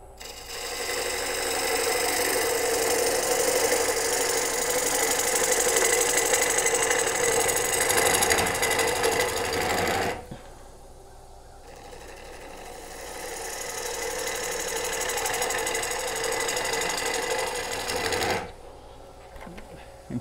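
A wood lathe spins a nut-embedded live edge bowl while a gouge shapes the outside, giving a dense rattling whir for about ten seconds, a brief quieter pause, then another long stretch of cutting noise before stopping.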